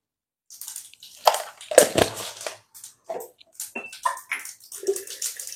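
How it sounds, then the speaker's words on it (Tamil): Mustard seeds sputter and crackle in hot oil for tempering in a home kitchen, with irregular sharp pops and bursts scattered through the clip, close and moderately loud. "இதில் வந்து கடுகு போட்டுக்கலாம்."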